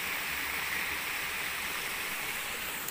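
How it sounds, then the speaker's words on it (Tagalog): A stream flows nearby in a remote outdoor spot, a steady, even rushing hiss of water with no voices over it. "Tubig yun."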